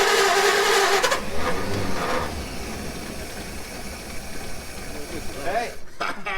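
The engine of a 1934 Federal fire truck under restoration cranks, fires and runs roughly, close and loud, with people talking over it.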